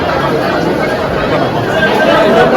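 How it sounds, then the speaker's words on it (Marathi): Pilgrims packed into the Akkalkot Swami Samarth temple on Datta Jayanti fill the air with constant, close hubbub, many voices blending into a steady murmur. "फुल गर्दी आहे फुल."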